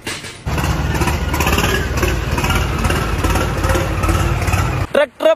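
Swaraj tractor engine starts up after a brief pause and runs with a loud, steady low chugging drone as it drives out, cutting off abruptly near the end.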